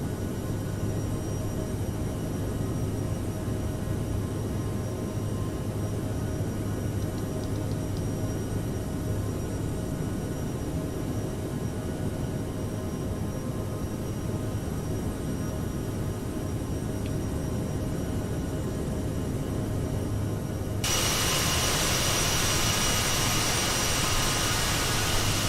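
Airliner jet engines roar at departure power in Microsoft Flight Simulator 2020, a steady, loud broadband rumble with a low drone that brightens and swells near the end.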